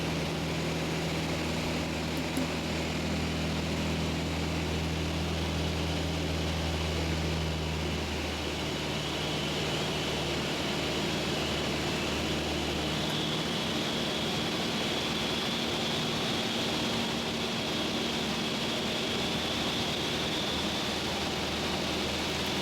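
A Mousquetaire light aircraft with two notches of flap descends at around 110 to 120 km/h, its engine a steady, loud cabin drone with a low hum that holds throughout and shifts slightly partway, with no talking.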